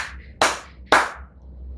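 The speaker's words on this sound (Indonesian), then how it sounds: "Saya kasih tepukan sebelah kanan," Two sharp, close hand claps, spaced about half a second apart, are picked up on the right side by the built-in microphone of a Sony Xperia XZ3 phone in a quiet indoor room.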